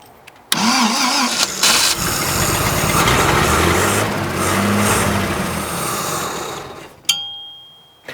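A 1932 DeSoto engine cranks and catches, then runs roughly at a rumbling idle for several seconds before sputtering out, loud and close, with no talk.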